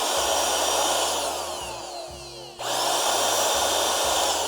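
A Parkside PALP 20-Li B2 cordless air pump blows air with a loud, steady motor whine and rushing hiss, dipping briefly as it slows, then surging back to full speed.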